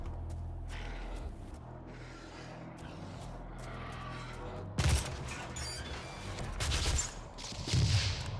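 Rocket launcher firing in Doom 2016 on Nightmare difficulty: after a stretch of low rumbling game ambience, three loud blasts hit at wide intervals, each followed by a roaring, noisy tail.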